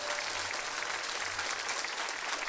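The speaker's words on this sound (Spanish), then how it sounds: "Aplauso para el Señor" A church congregation applauds steadily for a few seconds, a dense even wash of clapping that fills the space with no voices standing out.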